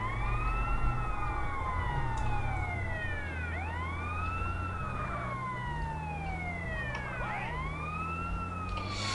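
Ambulance siren in GTA San Andreas, a continuous wailing siren rising and falling in overlapping sweeps over a steady engine rumble, close and constant throughout.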